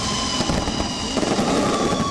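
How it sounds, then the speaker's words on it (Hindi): Fireworks burst during New Year 2023 celebrations, a dense continuous crackle of overlapping pops and booms heard loud and close with no pause. "कहीं आतिशबाजी हुई"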